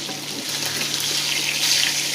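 Pangas fish pieces frying in oil over medium heat give off a steady, bright sizzling hiss that holds evenly throughout, close and fairly loud with no talking.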